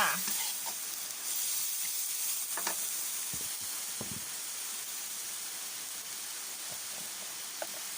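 Vegetables with young chillies stir-fry in a hot pan, a steady hissing sizzle, continuous and close, with a few soft clicks of stirring.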